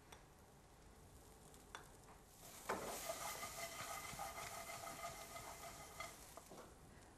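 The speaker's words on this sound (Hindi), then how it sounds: "अब इन सब चीजों को हमने अच्छी तरह से भून लिया है" Cloves, fennel seeds, garlic and ginger being dry-roasted and stirred in a pan on a TV cooking show, a soft steady sizzle with scraping stirs that swell partway through, no voices.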